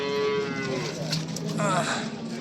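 A cow at a livestock market moos loudly and nearby, a long low call followed by a second shorter moo.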